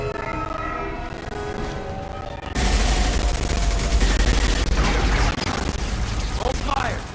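Gunfire in the video game Mass Effect: a sudden, loud, sustained barrage of shots and blasts fills the second half after a quieter stretch with voices, and speech continues over the shooting.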